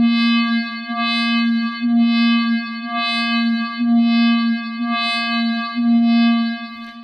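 A slowed wave-morph tone from an ID700 synthesizer holds one steady pitch with rich overtones, with soft breathy swells pulsing about once a second, alone and fairly loud.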